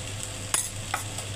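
Bitter gourd with sesame powder and spices sizzles quietly in a pan, a soft steady hiss broken by a couple of brief stirring clinks.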